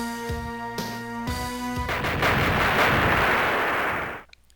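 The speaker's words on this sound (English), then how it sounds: "And the battleship blows up" A battleship explodes in the 1994 SNK fighting game King of Fighters '94. Heavy booming blasts over a sustained tone build into a long, loud, crackling roar that cuts off abruptly near the end.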